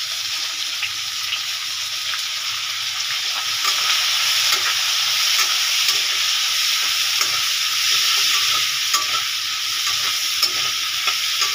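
Onions frying in a cooking pot give a constant bright sizzle, with repeated light scrapes and clicks of stirring throughout.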